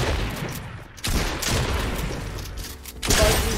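Gunfire in a shooting video game: loud bursts of shots and impacts crack out repeatedly over a busy game mix, with two sharper reports standing out.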